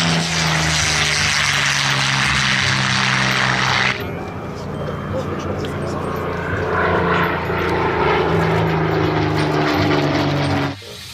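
A toy fighter jet plays a loud, continuous electronic airplane engine roar that shifts tone partway through and cuts off abruptly near the end.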